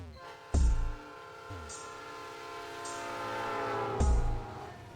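A train departs in the game Pokemon Reborn, with a sustained whistle-like horn tone and several heavy low thumps at intervals.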